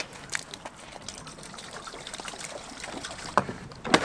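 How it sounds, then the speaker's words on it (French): Water poured from a jerrycan splashes and trickles during a rinse, soft and close, with a few sharper gushes and knocks near the end and no talk. "Mais je vais faire déjà un rinçage"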